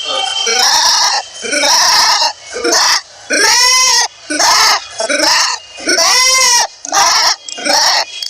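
A man imitates a goat's bleat with his voice, giving a series of loud, wavering bleats in separate bursts, close up and clear, with short pauses between them.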